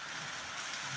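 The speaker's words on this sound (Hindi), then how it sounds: "भयंकर बारिश लगी हुई है।" Heavy rain pouring steadily during a prolonged downpour, a dense continuous hiss, loud and unbroken, no voices.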